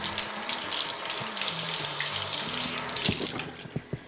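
Tap water running as a water filter O-ring is rinsed in a sink, a steady close gushing stream with shifting splashes, then the flow stops and a few drips fall.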